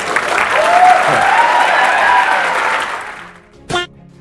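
An audience at a comedic motivational talk show breaks into loud, sustained applause for about three seconds, then it fades, leaving a brief burst of noise near the end.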